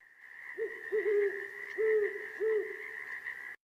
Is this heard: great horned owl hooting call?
yes